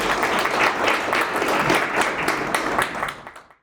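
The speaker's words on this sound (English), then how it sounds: "All right, a big round of applause." Audience applause at a roundtable discussion, a full, steady burst of many hands clapping close by that holds for about three seconds before fading quickly away.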